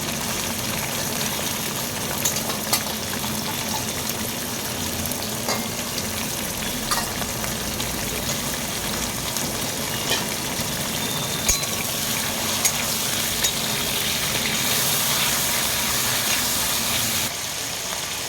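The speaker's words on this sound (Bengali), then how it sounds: "চিংড়িও আমার যতটুকু দরকার সেটা ভাজা হয়ে গেছে" Small shrimp sizzle and crackle steadily in a pan with spices, a continuous close frying hiss with occasional stirring clinks and scrapes throughout, no talking over it.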